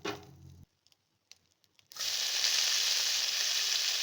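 Fresh coriander leaves hit a hot pan for chutney: after a brief tonal sound and a near-silent pause with a few light clicks, a loud, steady, close sizzle takes over and continues without talk.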